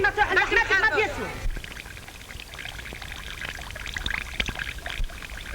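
Water from a water clock pours in a brief gushing rush that cuts off sharply, followed by a faint running trickle under background noise. A voice is heard at the start.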